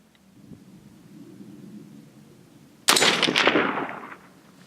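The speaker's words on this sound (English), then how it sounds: "here's 5 shots" A rifle firing cast .223 loads with IMR4064 powder at a range: after a quiet stretch, a sudden loud burst of sharp reports with rolling echo, decaying over about a second.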